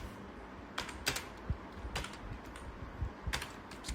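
Clicks of typing on a computer keyboard while entering a task into a to-do web app, a few scattered light taps over a low background hum rather than steady fast typing.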